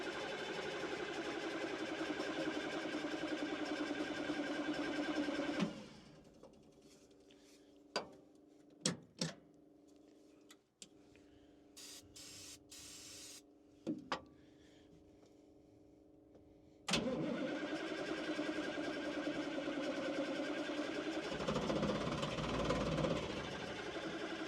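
A dead CAT military scraper engine cranks and churns, sucking air as it tries to start, in two long loud mechanical bursts separated by a quiet stretch with scattered clicks and knocks.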